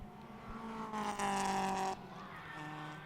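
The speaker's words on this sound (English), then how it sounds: "Some really fast Porsches heading into the braking zone." Several fast Porsche race cars brake on a circuit during a member challenge race, a distant engine drone that swells briefly and falls away as they pass, under a faint crowd-like wash.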